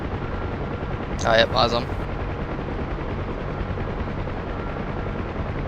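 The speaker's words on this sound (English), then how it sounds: "eyes on our sister company, Chinook flight, crossing left to right." A Chinook helicopter flying past in a video game, a steady loud rotor drone filling the whole stretch, with a brief spoken exchange near the start.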